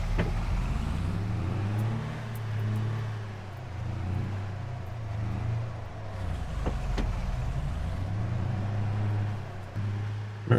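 A pickup truck drives along a road toward the dealership in Farming Simulator 22, its engine a steady low hum that rises and falls gently through the whole stretch, close and continuous with nothing else over it.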